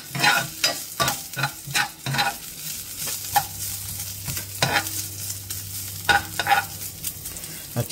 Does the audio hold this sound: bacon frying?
yes